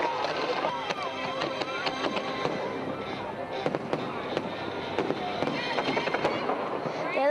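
Fireworks bursting over a Disney parade, a dense run of sharp pops and crackles across the whole stretch, fairly loud and close, with crowd noise and voices mixed underneath.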